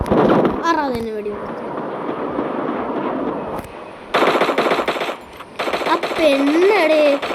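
Gunfire in the mobile battle game Free Fire, rapid automatic bursts and single shots in loud clusters, with players talking and exclaiming over the shooting.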